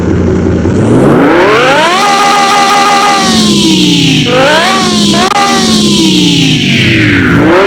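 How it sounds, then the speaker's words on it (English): A rebuilt 1140 HP Lamborghini Gallardo Superleggera engine revs up and down repeatedly, its pitch climbing and falling in loud, close surges. "The engine starts now, and she is purring."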